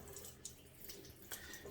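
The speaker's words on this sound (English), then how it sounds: "and just pouring out the water" Water from a soaked tub of Mitchell's Wool Fat shaving soap is poured out in a soft, steady trickle, close and low over a noisy background. No voices are heard.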